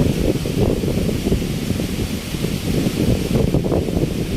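Strong wind at the seaside in rainy weather with big waves: heavy, continuous buffeting roar and gusting rumble on the microphone, loud throughout with no speech.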